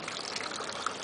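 Water runs steadily from a tap in a home with a toddler, a brief continuous splashing gush close by.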